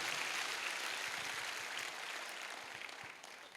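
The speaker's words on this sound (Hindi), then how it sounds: "एक जबरदस्त वाली ताली होनी चाहिए" An audience applauds for an award honoree at a business event. The dense patter of clapping is moderately distant and fades slightly toward the end.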